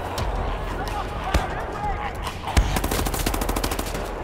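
Rapid machine gun fire rattles through a firefight in the VR shooter Wolfenstein: The New Order, loud and continuous with a few sharper gunshot bursts, while voices shout over the battle.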